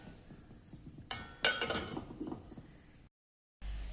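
A lid set over a cooking pan of millet palappam on high flame, a metallic clink and scrape of metal on metal lasting about a second, followed by quieter rattling, then a brief gap and a dull hum.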